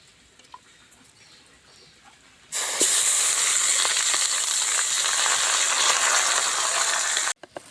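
Chicken pieces for chicken curry, added after whole spices, sizzle and fry loudly in a hot pan, a bright steady hiss that starts abruptly after a quiet stretch and runs on before cutting off near the end.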